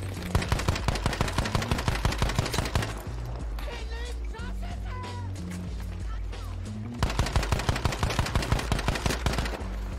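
Rapid machine gun bursts from a prone gunner in a video game, dense rhythmic cracks in two long volleys at the start and end with a calmer stretch of game sound between, loud and close.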